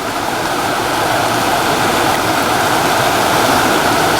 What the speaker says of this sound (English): you can hear the rapids in the creek